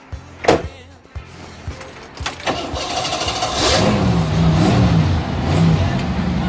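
A 1983 Jeep CJ8 Scrambler engine cranks with a few sharp starter bursts, then catches and settles into a loud, steady running rumble close by.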